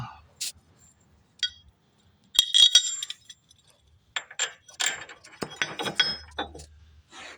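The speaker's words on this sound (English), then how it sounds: "You gotta get the bolt out, take it out." A bolt comes out during a traction bar install on a 1992–2000 Honda Civic, with irregular bursts of close metallic ratcheting, clinks and rattles separated by quiet gaps.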